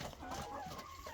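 Hens in a coop, with a rooster among them, cluck and murmur softly in a brief close burst of overlapping calls.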